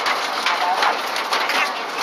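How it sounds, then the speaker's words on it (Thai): Hail falls continuously in a steady dense patter on surfaces nearby, a loud even rattle like heavy rain with no pauses. "ลูกเห็บตกต่อเนื่องนะครับ ยังไม่จบฮะหลายรอบฮะ"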